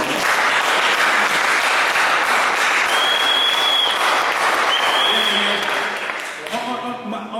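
Congregation in a church service clapping loudly and steadily in a sustained wall of applause, with cheering voices and a short whistle-like tone over it, tapering off near the end as a few voices come through.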